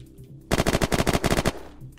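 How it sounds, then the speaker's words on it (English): Automatic AUG rifle fire in the video game Unturned: one loud, rapid burst of about a dozen shots lasting roughly a second, standing out sharply against quiet background noise. "Now I hear an AUG."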